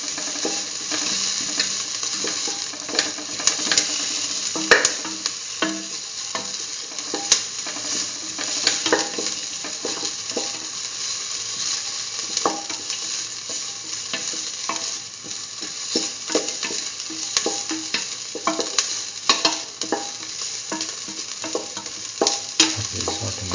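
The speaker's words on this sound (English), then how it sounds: "Keep on sauteing." Potato and soya chunk stew sautéing in a pan, a steady close sizzle with repeated scraping and stirring clicks from a utensil throughout, no voices.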